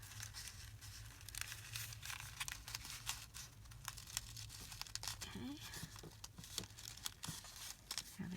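Washi tape being torn and crinkled during paper crafting on a junk journal page, a series of short ragged tearing and rustling bursts over a low steady hum.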